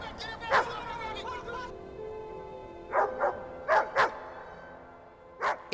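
Zeus the dog barks in a handful of sharp, separate bursts, with a tense, busy background underneath and people talking early on.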